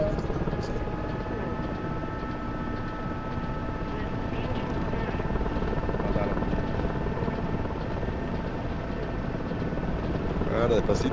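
Mi-8 helicopter in the DCS flight simulator touching down with burst wheels, a loud continuous rotor thrum and turbine whine throughout, while someone talks over it.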